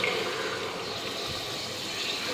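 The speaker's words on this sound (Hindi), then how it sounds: "ये हमारे पास है दूध और पानी का मिक्सचर, जिसमें हमने इलायची भी ऐड की हुई है, ये हम इसमें ऐड कर देंगे पैन में।" A milk and water mixture with cardamom is poured into a cooking pan for village-style besan halwa, making a continuous steady liquid rush, close and even throughout with no talk.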